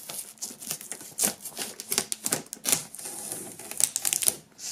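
A blade slits and peels plastic foil wrap off a metal box, producing close crinkling and crackling bursts in an irregular rhythm, loud and without speech.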